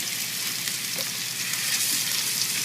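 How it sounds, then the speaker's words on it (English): Meatballs brown in a pan over low heat, giving a steady close crackling sizzle that runs throughout with no voices. "enough so that you have that sizzle when you put the meat in"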